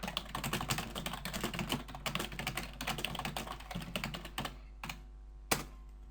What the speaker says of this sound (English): If I want to type something else